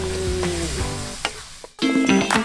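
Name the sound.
sautéing spice paste in a pan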